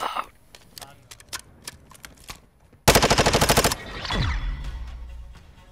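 Rapid automatic fire from an AK-variant rifle in a video game, a loud burst of about a dozen quick cracks, followed by a swelling roar and falling whine, with scattered clicks and faint game sounds before it.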